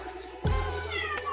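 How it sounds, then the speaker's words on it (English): A cat gives a single short meow, close and fairly clear, with faint background noise and no talking over it. "what are you meowing at?"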